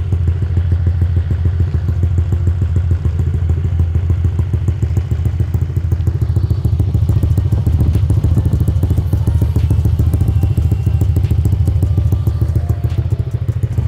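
A motorcycle with a TSMP Stage 3.5 exhaust idles loudly and close, a deep, steady rumble with rapid thumping pulses and some metallic clatter, running on its own without talk.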